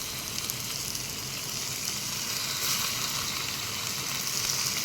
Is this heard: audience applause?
no